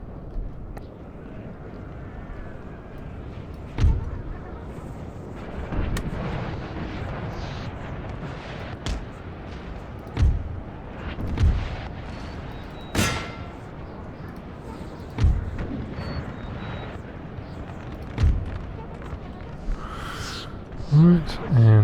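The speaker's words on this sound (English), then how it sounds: "My guns are shelling the grenadiers." Artillery shelling grenadiers in a Napoleonic Total War 3 battle, deep booming cannon reports at irregular intervals over a continuous battlefield rumble, with someone talking throughout.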